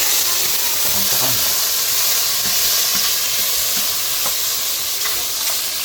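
Vegetables with dried mushrooms stir-fry in a pan with a steady, loud sizzling hiss and occasional soft stirring scrapes, running continuously throughout.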